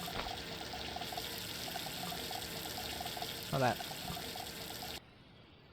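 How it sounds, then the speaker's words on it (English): Water pours and trickles into a bucket in the video game Junkyard Truck, a steady running stream with a brief splashing burst, under a short spoken remark. "we're going to fill them up with water"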